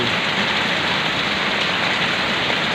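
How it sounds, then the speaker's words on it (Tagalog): Sudden heavy rain pours down in a dense, steady hiss of drops hitting surfaces, loud and close, with no pauses or voices throughout. "biglang bumusang ulan"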